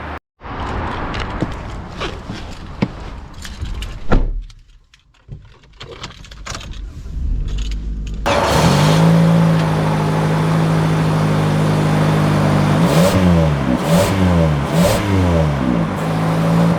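A 2025 Toyota Corolla base model starting up: some cabin handling noise and a brief quiet gap, then the engine catches and settles into a steady hum that rises and falls as it revs and pulls away.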